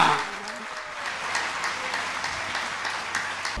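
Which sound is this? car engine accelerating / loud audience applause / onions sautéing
loud audience applause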